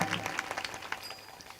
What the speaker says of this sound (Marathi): जोरदार टाळ्या आमच्या साऊंड ऑपरेटर दादासाठी.